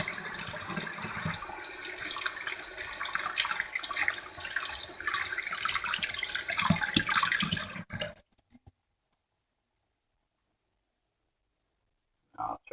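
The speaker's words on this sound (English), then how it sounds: "but my hands are soapy. I'm cleaning my hands." Running tap water splashes over soapy hands at a kitchen sink during turkey preparation, a loud continuous gush for about eight seconds that cuts off abruptly into silence, followed by a brief knock near the end.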